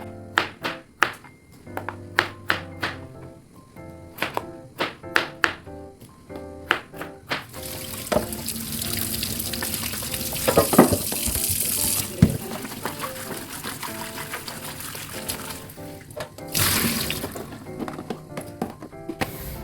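Sliced potatoes washed under a running kitchen tap, a steady gush of water filling and splashing in a sink after several sharp knocks and clatters, fairly close and moderately loud, with no talking over it.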